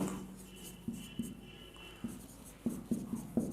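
Chalk taps and scrapes on a board as thermodynamics definitions are written out during a lecture, giving a series of short, close strokes in an irregular rhythm at moderate volume.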